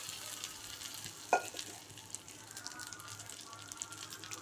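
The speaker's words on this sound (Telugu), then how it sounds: "ముందుగా బ్యాంబినో వేయించుకుందాము." Bambino vermicelli fries in a pan on medium flame for upma, giving a faint, steady sizzle with soft stirring scrapes and one sharp clink of a utensil.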